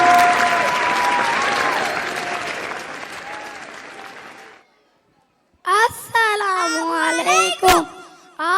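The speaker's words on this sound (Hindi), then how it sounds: "भरपूर तालियों से इनकी हौसला अफजाई कीजिए।" Audience applause at a school annual prize distribution ceremony: a sustained burst of clapping from a crowd of parents fades out around four seconds, followed by a brief silence and then a voice speaking.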